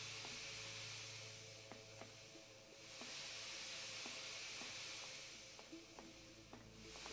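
Steam hisses steadily in the Dark Matter video game, a broad continuous airy hiss swelling and fading, with faint mechanical clicks underneath.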